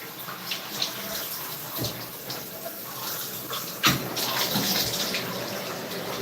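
Water rinsing off a stove, a continuous close splashing rush with a few louder splashes and knocks along the way.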